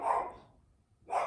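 A dog barks twice, close and fairly loud, with a short quiet gap between the barks.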